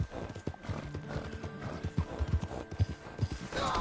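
Horse hooves galloping in the Red Dead Redemption 2 video game, a steady, fast clip-clop rhythm up close, with a brief neigh and game ambience underneath.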